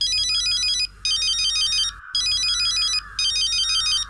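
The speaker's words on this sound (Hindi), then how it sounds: "ये जमाई मारे को क्यों फोन कर रहा है?" A mobile phone ringtone for an incoming call plays loud and close, a bright, repeating electronic melody in four even bursts with short gaps between them.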